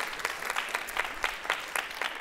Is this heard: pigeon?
no